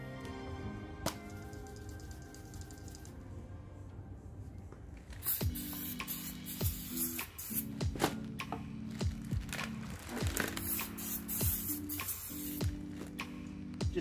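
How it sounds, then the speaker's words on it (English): Cheap auto brake cleaner sprayed onto a rear drum brake of a Toyota Hilux Vigo, heard as several close hissing bursts of aerosol spray separated by short pauses. "Just some super cheap auto brake cleaner to get any of the packaging grease off of the brake"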